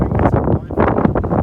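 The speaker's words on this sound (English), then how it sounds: "That's just a short clip of 40 to 50 kilometer winds on windy gale" Gusting 40 to 50 km/h gale wind battering a lightweight Nordisk Telemark 1 LW tent, loud close buffeting and flapping in uneven surges with a brief lull midway.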